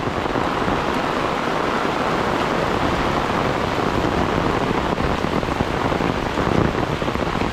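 Heavy rain pours steadily outdoors, a dense, loud, unbroken hiss of water that holds constant throughout without any voices.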